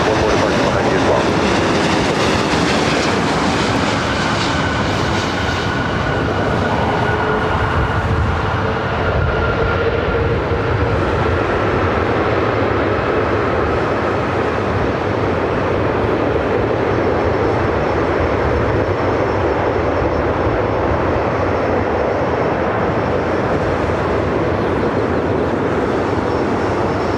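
Jet aircraft at LAX airport give a loud, continuous, thunderous engine roar that swells and holds for the whole span, close by, with voices faintly mixed underneath.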